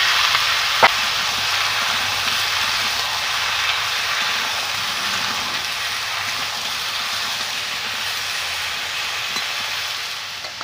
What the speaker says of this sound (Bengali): লাউগুলো ভেজে নেব।